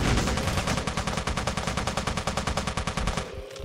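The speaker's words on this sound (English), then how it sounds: "Just keep shooting." Automatic gunfire in the top-down shooter Teleglitch, a steady rapid stream of evenly spaced loud shots hammering for about three seconds before cutting off into a brief quiet tail.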